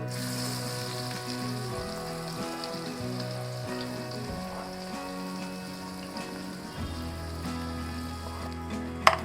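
Chopped onion sizzling in hot oil with whole spices such as cinnamon sticks, a steady, close crackling fry that continues evenly with a low hum underneath.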